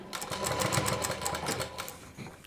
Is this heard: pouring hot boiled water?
no